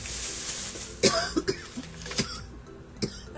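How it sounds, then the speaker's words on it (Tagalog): A person with a sore throat gives several short, sharp coughs spaced irregularly, close to the microphone, with quiet background in between and no speech. "Yung ubo ko guys"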